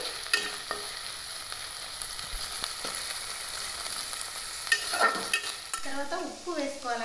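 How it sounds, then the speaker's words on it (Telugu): Okra fries in a pan, a steady crackling sizzle with repeated scraping stir strokes of a spatula, close and alone without talk. "బెండకాయలు వేసుకున్న తర్వాత వేగేదాకా కలుపుకోవాలండి."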